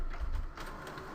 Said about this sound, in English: It's just actually cleaning the heads of the printer